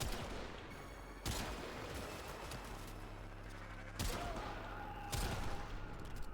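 Gunfire in the Warframe video game arrives as continuous rapid volleys under a dense noisy backdrop, with several sharper bursts punching through; quiet overall and no voices.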